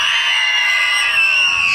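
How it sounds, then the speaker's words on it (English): A large outdoor audience at a Wednesbury Christmas lights switch-on gives one steady, loud, high-pitched scream that holds at full intensity the whole time, with no break and no spoken words. "Can we just have the scream first"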